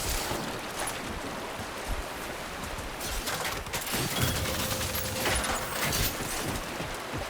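Rapid bursts of gunfire from a gun in the video game Death Stranding 2 crackle and rattle almost nonstop, loud and dense over a rushing, wave-like background.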